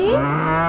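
A cow moos in one sustained, loud, close call, a single lowing note with no other sounds around it.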